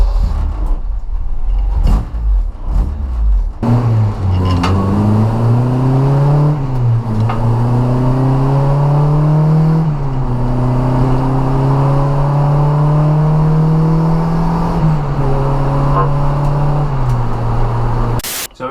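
A Honda Civic Type R BTCC race car revs hard on a dyno, its engine note climbing through repeated rising sweeps and holding high, loud and close, with sharp blips at the start and no talk.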